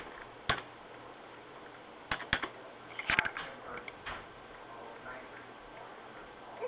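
Scattered keystrokes on a computer keyboard as letters are typed into a login prompt, several sharp isolated clicks and a short quick burst, fairly close, over a low steady background.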